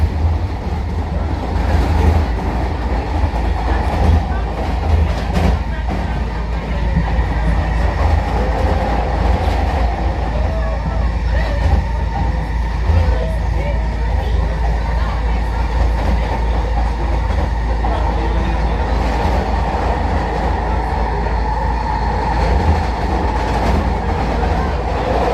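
A SkyTrain carriage rolling from Surrey to Burnaby, a loud continuous rumble and rail hum with faint rhythmic clatter, heard from inside throughout with no talk.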